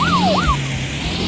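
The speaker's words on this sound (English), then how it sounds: "turn the sirens on." A police siren wails from a drivable car in a video game, with two quick rising-and-falling sweeps over a low steady hum, clear and close.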